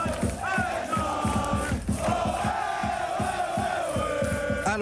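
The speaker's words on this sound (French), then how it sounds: "une foule de fanatiques de l'OM à l'aéroport de Marignane" A large crowd of Olympique de Marseille supporters at Marignane airport at night, chanting loudly in rhythmic unison with regular clapped or stamped beats and sustained sung lines, dense and close.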